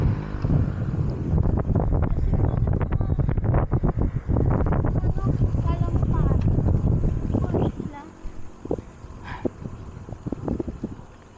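Strong wind buffets the microphone in a loud, gusty roar while a person talks over it, then the wind drops sharply near the end, leaving quieter traffic ambience.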